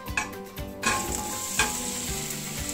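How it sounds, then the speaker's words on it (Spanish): Vegetables and apple sautéing in extra virgin olive oil in a pot, a steady close sizzle broken by a few sharp stirring scrapes and clinks, with no talking. "voy a poner las verduras con mi manzana a saltear un poco"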